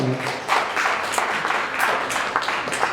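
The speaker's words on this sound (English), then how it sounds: "Let's give him a round of applause now." An audience at a young entrepreneurs' hangout event gives a steady round of applause, with a broad wash of clapping that continues through the whole moment.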